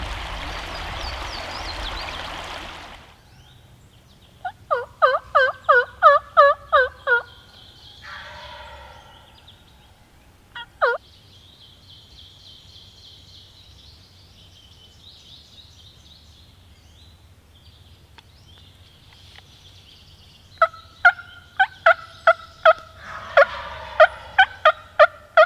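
A wild turkey gobbles in rapid bursts of repeated calls on public land in northern Iowa, moderately distant, with a trickling stream running underneath and quiet stretches between the calls.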